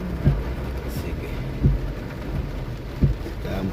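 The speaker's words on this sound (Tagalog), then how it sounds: "Kaya ang problema ko, biglang umuulan." Rain falling during a sudden shower in a village, a steady wash of drops with several heavy thumps standing out, and voices faintly underneath.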